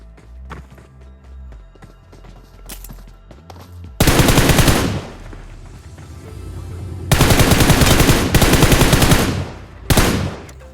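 Gunfire in the BGMI (PUBG Mobile) video game: loud sustained automatic bursts, three long volleys and a short final one, with lighter footsteps and game sounds between.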